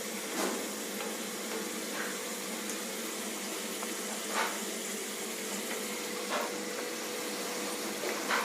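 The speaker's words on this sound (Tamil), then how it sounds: "இதே மாதிரி எல்லாத்தையும் பொரிச்சு எடுத்துக்கோங்க." Sweet boli frying in hot oil, a steady soft bubbling sizzle with occasional crackles and pops, close and moderately quiet, with no voices.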